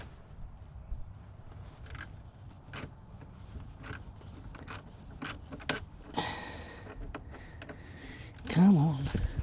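A wrench works at the bottom bolt on a 2018 Hyundai Tucson, giving scattered sharp metallic clicks and ticks at close range, with a rustling scrape and a brief low vocal sound near the end.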